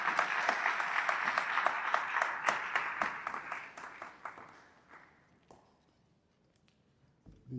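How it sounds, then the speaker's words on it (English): An audience at a university alumni mentoring event gives the Vice Chancellor a steady round of applause that tapers off and dies away into near silence. A faint thump follows at the end. "Round of applause for the Vice Chancellor."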